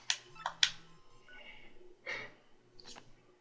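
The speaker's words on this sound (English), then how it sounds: "Mario's butt is ringing." Short electronic phone ring tones from the Paper Mario: The Thousand-Year Door video game come in a few quiet, separate bursts against a faint background.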